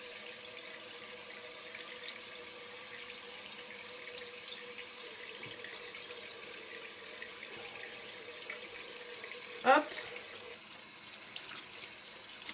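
A tap runs into a sink while a makeup-removing wipe is rinsed, a steady moderate hiss of flowing water with a brief louder splash of handling partway through.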